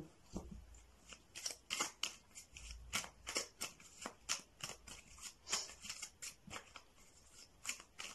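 Tarot cards are handled and shuffled in a steady flurry of crisp riffling flicks and soft slaps, close and continuous with no talking.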